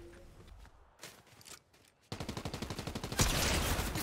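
Video game gunfire: a few sparse shots and footsteps, then a rapid, evenly spaced burst of automatic fire that grows louder and denser toward the end.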